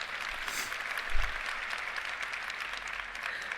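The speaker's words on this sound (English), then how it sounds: "Yeah, you can clap for that." Keynote audience at the Oculus Connect 6 VR developer conference bursts into steady, dense applause that carries on throughout the moment without voices above it.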